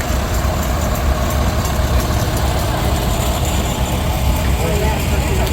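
A tractor engine pulling a gravity wagon runs loud and steady nearby at a low idle-like drone, with a constant rumble filling the background, at a steam power show.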